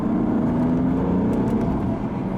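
A BMW M3 accelerating hard from 43 mph, its engine giving a strong, steady droning roar heard from inside the car, holding loud before easing slightly near the end.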